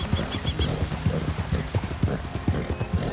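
Horse hoofbeats in the Red Dead Redemption 2 video game clip-clop in a quick steady rhythm, close and clear, with a brief whinny among them.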